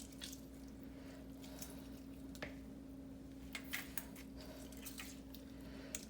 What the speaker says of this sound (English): we're going to wash it with some lime